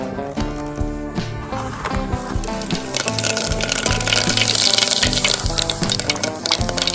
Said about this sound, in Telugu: ఆయిల్ అయితే చాలా బాగా మరిగిందండి ఫస్ట్ అయితే మనం జీలకర్ర అన్నది వేసుకుందాం